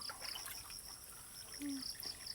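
Faint, steady trickle of water running from a tree at a rural bathing spot, a quiet wash of sound with distant high insect-like tones over it.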